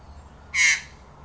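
A magpie gives a single harsh, rasping call, loud and close, standing out briefly against quiet background noise.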